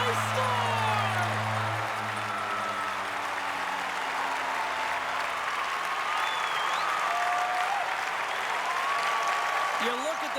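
A packed arena crowd in the hockey video game NHL 21 roars steadily after an overtime winning goal, a broad, sustained cheer with faint voices mixed in.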